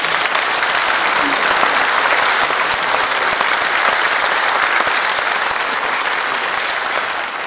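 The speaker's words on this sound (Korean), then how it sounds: "우리 팔기 김경희 시장님에게 큰 박수 한번 보내주시기 바랍니다" Loud, continuous applause from a large crowd greets the mayor at a city inauguration ceremony in Icheon, thick and even for several seconds before tapering slightly near the end.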